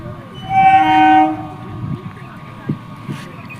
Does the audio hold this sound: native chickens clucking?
no